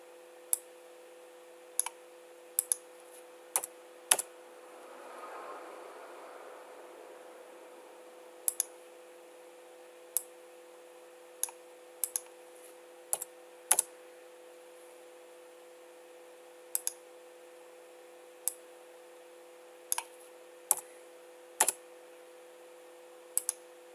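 A computer mouse clicking sharply and irregularly, about two dozen crisp single and double clicks in a quiet room, with a brief soft rustle early on.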